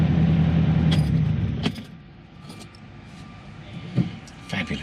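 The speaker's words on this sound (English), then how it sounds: "So the idle's starting to come up a bit now as the cylinders loosen up, the idle rises." A Ferrari 308 engine idles with its idle speed slowly rising after restoration, a steady low rumble with a droning tone under intermittent clinks and rustling, the level dipping mid-way before brief sharp knocks near the end.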